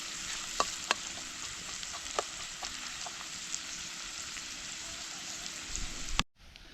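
Garlic and onions sizzle steadily in a pan with a soft, even crackle and occasional sharp pops, then the sound cuts off abruptly near the end.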